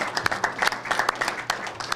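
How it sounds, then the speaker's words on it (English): An audience at a ceremony honoring Vietnam veterans claps steadily for family members, a moderate indoor applause of many hands heard at some distance, without speech over it. "How about a round of applause for our family members?"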